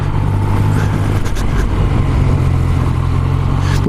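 Yamaha MT-09 SP motorcycle ridden over rutted, potholed roads in Lancashire, its engine a loud, steady close-up drone with constant low rumble and wind rush throughout, no talking.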